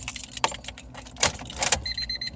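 A bunch of keys jangles and clinks in a few bright bursts inside a turbocharged D16 Honda Civic, followed by electronic gauge chimes, with no one talking.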